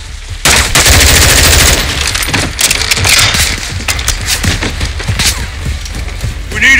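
Heavy gunfire in Call of Duty Modern Warfare 2: loud, dense automatic bursts and booming shots during a street firefight, with shouting voices under the battle.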